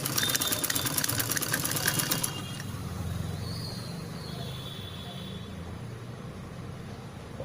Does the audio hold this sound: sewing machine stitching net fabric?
yes